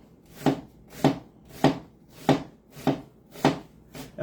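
Knife slicing onions thinly on a cutting board, six evenly spaced crisp chops in a steady rhythm, close and clear with no talking.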